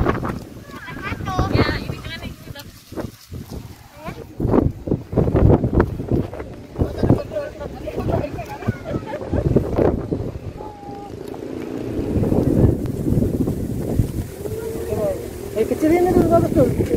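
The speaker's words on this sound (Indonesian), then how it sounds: "Kencang banget anginnya di sini." Strong wind buffeting the microphone outdoors at a strawberry farm in Malino, gusting unevenly in loud bursts throughout while people talk over it.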